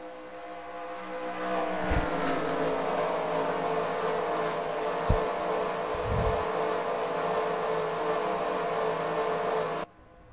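Race car engines in NASCAR Racing 2003 drone steadily at Darlington as the field goes green for the last 30 laps. A close, continuous roar holds throughout, with a few brief low thumps, and cuts off abruptly near the end.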